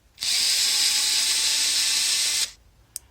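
A Panasonic EY7412SB electric screwdriver spins at full speed in one steady, close whir lasting over two seconds, then stops, followed by a brief faint click.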